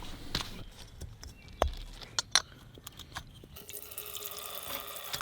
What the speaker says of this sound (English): We got some water boiling